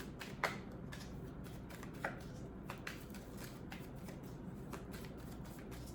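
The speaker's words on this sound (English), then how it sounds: "Gonna do a little bit better job of shuffling." Tarot cards being shuffled in hand during a Capricorn love reading, a steady papery riffle with repeated sharp flicks and taps spread across the whole stretch, fairly close with no talking.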